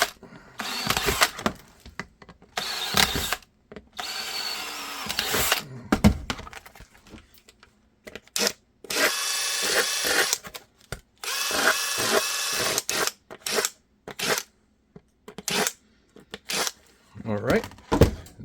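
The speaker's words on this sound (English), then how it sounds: "we're gonna drill right above it" Repeated bursts of a power drill whirring as it drills into a handgun holster, starting and stopping in short runs, with brief pauses and some handling noise between them.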